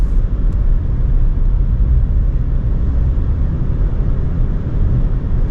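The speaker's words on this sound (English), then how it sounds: "driving this stretch, handling things okay in the Taos so far." Volkswagen Taos on the road, heard from inside as a loud, steady low rumble of road and engine noise with no talking.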